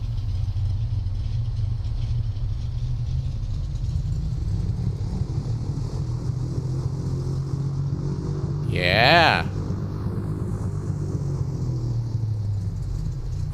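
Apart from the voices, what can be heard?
Piper Seneca II engine power-up in X-Plane 12 video game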